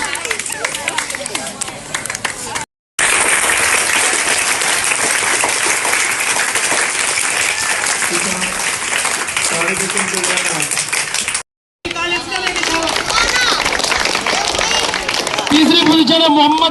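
Loud, sustained applause and clapping from a crowd at a school's annual result day greets a student being honored, filling the room continuously, broken by two brief cuts, with some voices audible beneath it.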